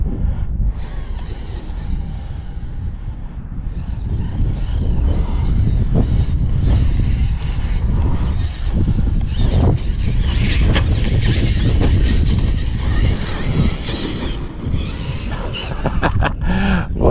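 Rlaarlo MK07 RC car converted to brushless power, bashing hard in four-wheel drive, its motor whining loud and steady with wheel spin and scrabbling over rough ground throughout.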